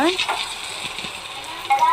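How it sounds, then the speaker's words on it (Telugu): Chicken frying in a kadai, a soft steady sizzle of hot oil running throughout, with a voice speaking over the cooking. "కమ్మదనం కోసం కొంచెం వేయించేద్దాము"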